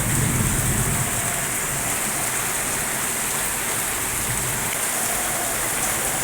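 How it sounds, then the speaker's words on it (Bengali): Heavy monsoon rain pours down steadily outdoors, a dense, loud, unbroken wash of falling water heard up close with no voices. "এই যে দেখো কি পরিমাণে বৃষ্টি হচ্ছে প্রচুর পরিমাণে বৃষ্টি হচ্ছে"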